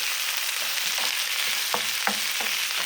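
Onions frying in hot oil in a pan while spaghetti with vegetables is being cooked, giving a steady close sizzle with a few brief stirring scrapes and clicks, no talking.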